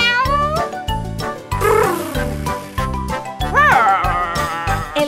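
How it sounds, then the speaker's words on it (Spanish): A kitten meows over an upbeat children's song with a steady bouncy beat, the meows rising and falling in pitch. "El gatito en el tractor dice miau, miau, miau"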